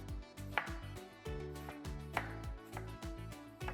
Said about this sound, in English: Next, we're gonna slice our strawberries.